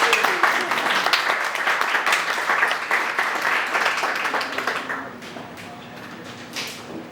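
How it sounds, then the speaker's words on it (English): Audience at a conservative coalition fundraiser applauding panelists as they come onto the stage, dense clapping that fades after several seconds, leaving faint scattered claps and room noise. "If we can invite all of them up onto stage and give them a round of applause."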